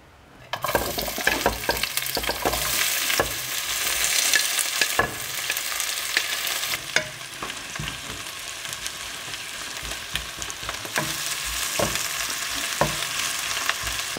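Onions frying in hot oil in a cooking pot for Réunion-style rougail graton, a steady loud sizzle with frequent scraping stirs of a spoon against the pot throughout.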